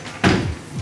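A hotel closet's sliding door at a resort room closes with a single sharp thud, followed by a brief rumbling slide that fades out.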